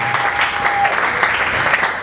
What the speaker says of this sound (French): Acclame très fort pour la